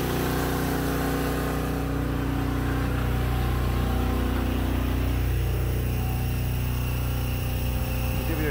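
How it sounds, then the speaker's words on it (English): A wood-gasifier-fed generator runs steadily and close by, a continuous mid-pitched engine drone with a strong low hum and no change in pace. "Okay, so the generator's running."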